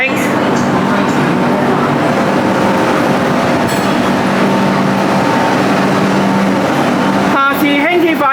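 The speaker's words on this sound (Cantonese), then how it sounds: "輕鐵5期列車迷你兵團與大怪獸主題列車" A Hong Kong Light Rail Phase 5 train in a themed livery passes the platform at Ngan Wai stop heading toward Yuen Long, a loud continuous rumble and wheel noise with a squealing tone near the end.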